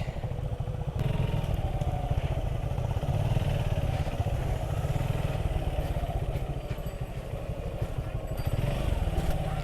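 A motorcycle engine runs steadily while riding out toward the Padma river char, a loud continuous low rumble with some rattling clatter, close up throughout.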